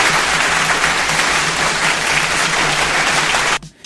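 A conference audience breaks into dense, continuous clapping that holds evenly, then cuts off abruptly just before the end.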